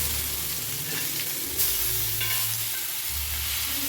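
Ayala mackerel sizzles steadily in hot oil in a pan, a continuous close frying hiss with occasional low bumps from the pan, no voices.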